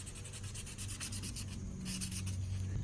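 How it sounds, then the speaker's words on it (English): Gasket surfaces on a 6.2L Cadillac Escalade engine are being sanded lightly by hand during an oil-leak repair. It is a close, steady, rhythmic scratchy rubbing of short back-and-forth strokes, with no talking. "we're just gonna lightly sand surfaces to get rid of anything that was on there"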